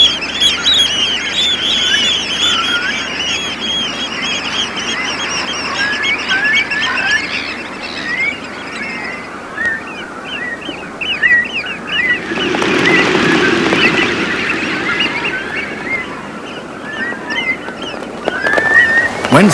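A flock of ducks on an estuary quacks and calls steadily, then erupts in a mass takeoff, with a loud burst of flapping wings and splashing water in the middle before the calls carry on.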